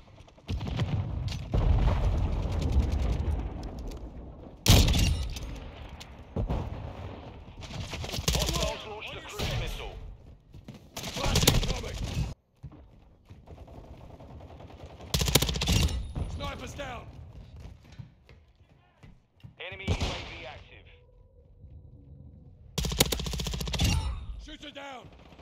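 Bursts of automatic and single-shot gunfire from the video game Call of Duty: Modern Warfare II, loud and close, coming in repeated volleys with short gaps, alongside booms and mechanical clatter under occasional radio-style callouts.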